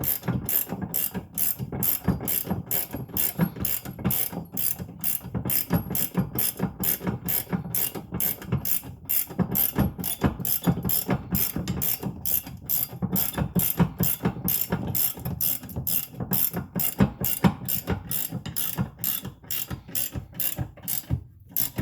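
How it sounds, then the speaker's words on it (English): Ratcheting wrench tightening a Torklift hitch receiver on a Tesla Model 3, a rapid rhythmic clicking of the pawl in steady bursts over twenty seconds, close and crisp, with no talking. "One of these ratcheting wrenches is useful."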